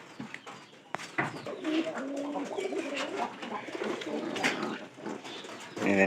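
A pigeon coos in repeated low, throaty rolling calls close by, with scuffs and handling noises as the bird is held near its straw nest.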